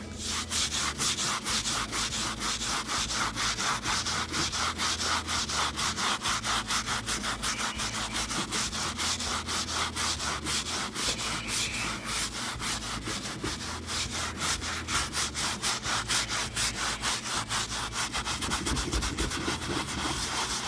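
A wooden tabletop that has been fractal burned is scrubbed hard between rinses, a loud, continuous, rhythmic rasping of brush strokes close to the microphone with no talking.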